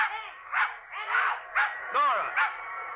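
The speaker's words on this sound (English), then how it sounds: "Jojo, bark at him." A dog in an old-time radio drama barks and yips in a series of quick, close, thin calls spaced at irregular intervals.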